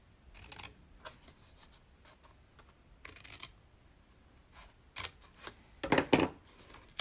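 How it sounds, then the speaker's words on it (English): Scissors snip through paper pieces in scattered crisp cuts, close and fairly quiet, with light rustling of the paper between snips. "So I cut out, make sure, actually I cut this part out too."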